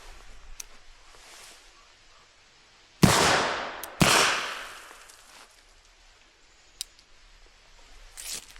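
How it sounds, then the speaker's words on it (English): Two loud gunshots from a British revolver of the kind London's Metropolitan Police carried from the 1890s to about the 1920s, fired about a second apart, each a sharp crack with a ringing decay, outdoors with faint background sound and no talk. "Let's put 2 rounds through it."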